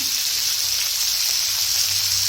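Tomatoes frying in a pan with green chillies and turmeric powder for a tomato curry, giving a steady, close, continuous sizzle and hiss with no talking.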